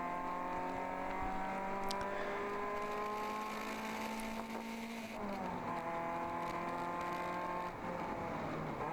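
An endurance race car at Gingerman Raceway upshifts to fourth and then drops back to third, the engine's droning pitch stepping down and back up in a loud, continuous onboard roar.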